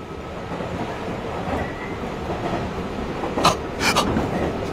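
A train rumbles along as a radio drama sound effect, a steady rolling roar with a couple of brief metallic squeals near the end.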